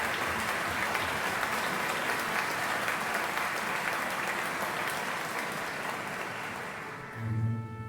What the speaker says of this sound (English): Crowds, applause.